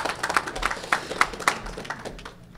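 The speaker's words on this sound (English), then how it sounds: "Give her applause." Scattered hand clapping from a small game-show audience at an equestrian-themed Jeopardy quiz, a few short bursts of claps heard close and moderately loud, fading out within a couple of seconds.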